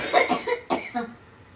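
A few harsh coughs in quick succession, close to the microphone, trailing off into quiet.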